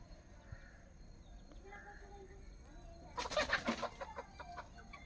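Chickens cluck in short, scattered bursts against a quiet outdoor background, with a busier flurry of clucking partway through.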